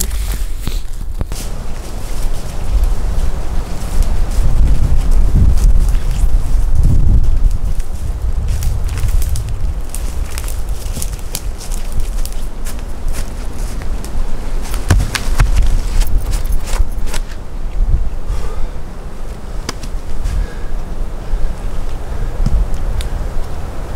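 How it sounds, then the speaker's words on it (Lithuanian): Strong, cold wind buffets the microphone on a fishing trip, a loud continuous low rumble with gusts swelling and easing, scattered knocks and rustles, and no voices. "Vėjas nenurimsta."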